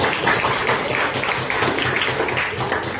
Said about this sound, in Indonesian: Tepuk tangan dong untuk kelas.